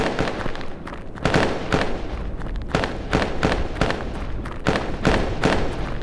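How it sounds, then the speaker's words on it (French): Loud, rapid bursts of gunfire from a virtual reality tactical shooter during a two-player co-op match, with repeated broadband cracks and volleys through the whole clip and no pauses. "À droite, on te tire dessus, Steph."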